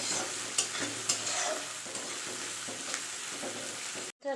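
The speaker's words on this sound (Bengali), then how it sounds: "কেটে রাখা পেঁয়াজ কুচি দিয়ে দিব পেঁয়াজটি একটু লাল করার জন্য আমি একটু লবণ দিয়ে দিব হালকা করে নাড়তে থাকবো" Chopped onions fry in hot oil with a little salt, sizzling steadily while a utensil stirs and scrapes the pan in repeated strokes, close and fairly quiet, ending in an abrupt clatter.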